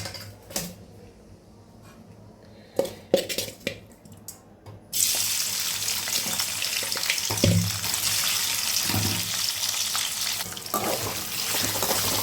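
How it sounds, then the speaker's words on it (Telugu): Boiled chicken pieces frying in hot oil in a pan, a few clatters and pops at first, then a steady loud sizzle that fills the rest of the clip with occasional bumps. "ఈ పీసెస్ చక్కగా గోల్డెన్ కలర్లో వచ్చే వరకు మనం ఫ్రై చేసుకుందాము."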